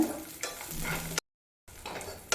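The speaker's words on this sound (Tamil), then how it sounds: "பத்து சின்ன வெங்காயத்தை இந்த மாதிரி கட் பண்ணி அதை சேர்த்து வதக்கிக்கோங்க" Small shallots and broken cashews are sautéed in a pan with a close sizzle and spatula scrapes, cut by a short dead-silent gap before the sizzling resumes.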